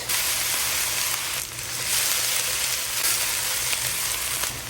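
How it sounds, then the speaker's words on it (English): Onions sautéing over high heat, a dense steady sizzle of frying that fills the whole stretch, loud and close with one brief dip in the middle and no talk. "So we're gonna saute this over high heat."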